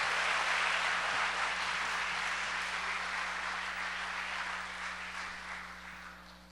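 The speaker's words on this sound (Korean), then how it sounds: "나오실 때 힘찬 박수 부탁드립니다." An audience at a Dream Farmers launch ceremony gives sustained applause to welcome speaker Ko Seung-duk. The wash of clapping is heard over a steady electrical hum and gradually fades.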